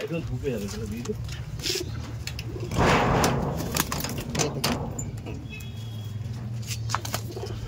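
A male Giribaj Kaldom pigeon coos repeatedly at close range, with a burst of wing fluttering midway, while people talk nearby.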